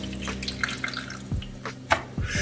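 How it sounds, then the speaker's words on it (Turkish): An Arçelik K3500 capsule coffee machine empties its hot water, a short run of splashing and dripping into a cup or tray, close and fairly loud with a few distinct drip splashes. "Şu anda sıcak suyu boşalttı."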